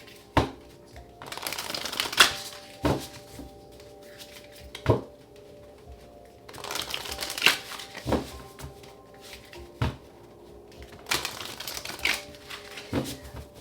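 Oracle symbol cards are shuffled in repeated bursts of rapid riffling and flicking, punctuated by sharp taps as the deck is squared, close and clear with little talk.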